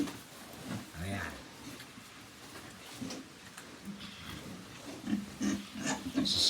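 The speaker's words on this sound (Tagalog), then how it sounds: "Sisigla ang ating mga baboy." Pigs on a farm grunt and oink in short irregular bursts, fairly close, with some louder grunts toward the end, over low background noise and no clear speech.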